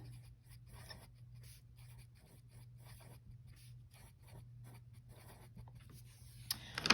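Pen or pencil writing out trigonometric functions by hand on paper, with faint, steady scratching strokes in short repeated bursts, close and quiet, with no talk.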